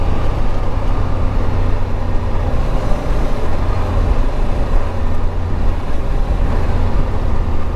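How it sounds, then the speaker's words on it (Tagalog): A large cargo truck rumbling past on a road, a loud, steady low drone of engine and tyre noise close by, with no voices over it. "Oh, laki ng truck."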